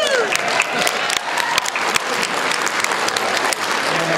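An audience applauds and cheers a contestant during a quiz-show semifinal introduction, steady clapping from a crowd, loud and close, lasting the whole moment.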